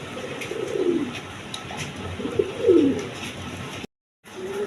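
Blue-shaded pigeons coo in low, rolling phrases, two clear bouts a second or so apart, close by, with a short silent gap near the end.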